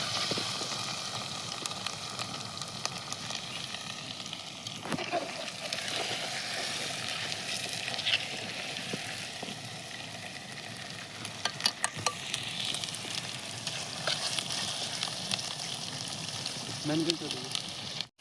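Mutton frying in oil with added fat in a Gujarati village-style pot, a steady crackling sizzle running the whole time with occasional stirring scrapes and clinks, and faint voices in the background.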